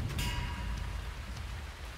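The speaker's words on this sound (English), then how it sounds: "it's raining" Rain in the Minecraft video game, a steady dense hiss of falling drops with low rumbling texture, constant and fairly loud throughout, no talking.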